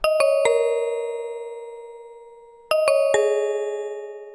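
A toy piano synth patch plays a MIDI line of bright, bell-like plucked notes in two clusters of three quick strikes, each ringing out and slowly decaying, clean and alone.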